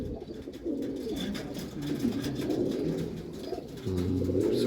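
Red Madrasi pigeons cooing close by in repeated low, throaty rolling coos, with faint background rustle and no talk.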